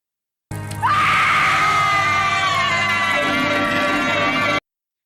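A woman screams loudly in a Doctor Who episode, a single sustained, piercing cry lasting about four seconds, cut off abruptly at the end.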